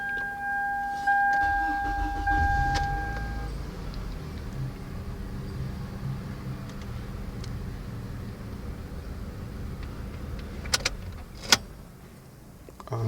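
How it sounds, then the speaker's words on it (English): A Toyota Camry engine cranks and catches, then settles into a low, steady idle, with a couple of sharp clicks and rattles near the end. "So which means you can start the car now."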